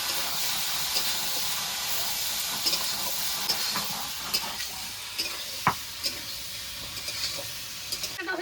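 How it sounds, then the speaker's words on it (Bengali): Sliced ridge gourd and potatoes are stir-fried with spices in a pan. A loud, steady hissing sizzle runs under repeated spatula scrapes and knocks, one striking harder than the rest. "ঝিঙেগুলো নেড়ে চেড়ে আলুর সঙ্গে একটু কষিয়ে নেবো"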